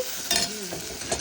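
Milk goes into hot sweet potato and bottle gourd soup in a pan, producing a short, soft sizzle and stirring swish with no talking.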